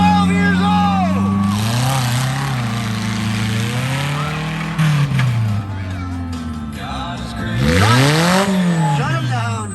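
Monster truck engine revving hard at a monster truck racing show in Fishersville, Virginia, with a 12-year-old driver at the wheel; loud, close, rising and falling engine roar throughout, swelling strongly near the end, with an announcer talking over it.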